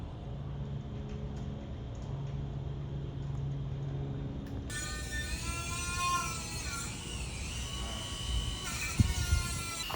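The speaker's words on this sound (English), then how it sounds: "we are angle grinding them to weld prep them right now" Angle grinder grinding steel roll cage tubing for weld prep, a steady high whine with shifting pitch that starts partway through over a low background rumble.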